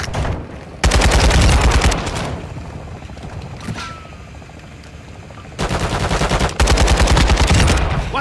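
Rapid automatic gunfire on Ashika Island in Call of Duty DMZ: loud sustained bursts open and close the stretch, with quieter scattered shots and battlefield rumble between them.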